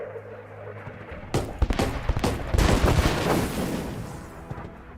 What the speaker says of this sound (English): Maybe I can airstrike this. I don't know. Incoming airstrike.